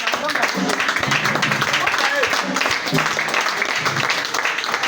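A church congregation applauding to acclaim Jesus, dense continuous clapping with voices shouting and talking throughout.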